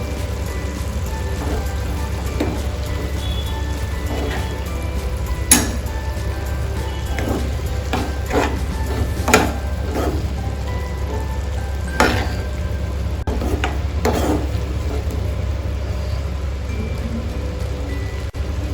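Beetroot curry cooks in a pan with red chilli and spices, giving a close, continuous low sizzle. Scattered sharp scrapes and taps come from a spoon stirring against the pan. No talk is heard.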